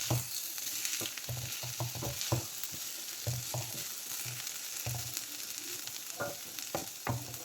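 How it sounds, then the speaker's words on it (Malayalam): Shredded cabbage with boiled white chickpeas stirred in a frying pan, a close steady sizzle with repeated quick spoon scrapes and knocks against the pan, no talking. "അതുകൂടി ഇട്ട് കൊടുത്തൊന്ന് ഇളക്കി കൊടുക്കാം"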